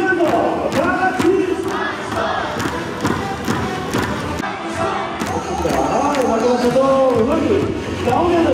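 Crowd at a Korean cheerleading event clapping and chanting in unison, loud and continuous, with rhythmic thuds and shouted voices throughout.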